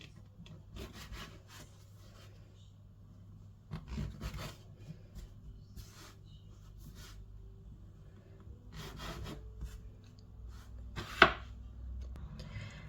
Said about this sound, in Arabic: غادي نقسم العجين باش يسهل عليا الخدمه به.